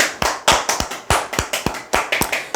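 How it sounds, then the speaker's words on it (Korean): A short burst of applause, quick uneven hand claps from a small group, close and crisp, with no voices. "박수 한번 치시죠"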